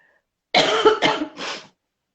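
A woman coughs in three harsh, close bursts, two quick ones followed by a longer fading cough, with silence before and after.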